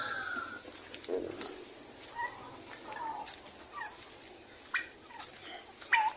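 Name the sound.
turkeys and chickens calling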